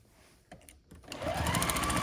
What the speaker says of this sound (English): So I'm just going to start sewing these together.